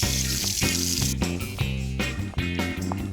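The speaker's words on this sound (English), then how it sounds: "Give my hands a rinse." Hands are rinsed under a running kitchen tap, a steady wash of water beneath loud music that plays throughout.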